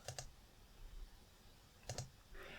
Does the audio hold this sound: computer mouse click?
yes